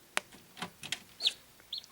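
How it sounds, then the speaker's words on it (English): A baby chicken gives a handful of short, high peeps and soft clucks, spaced irregularly and fairly close, with a quiet background and no talking. "Look at that. The baby chicken."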